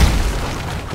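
Fire attack explosion in Black Myth Wukong on PS5, a deep, continuous rumbling boom that stays loud and steady for about a second with no talk over it.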